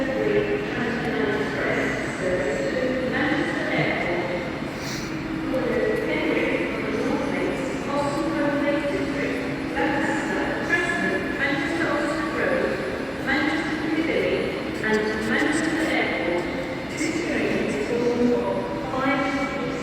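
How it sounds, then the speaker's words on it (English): A TransPennine Express train idles and rumbles at Carlisle station, a continuous mechanical drone with clanks and station bustle throughout, while people talk over it. "So that's the 11:33 TPE service to Manchester Airport, starting here at Carlisle."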